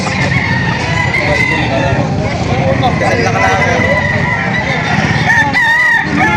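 Roosters crow amid steady crowd chatter at the Padre Garcia livestock auction market in Batangas, with clucking hens and a loud crow rising near the end over constant voices.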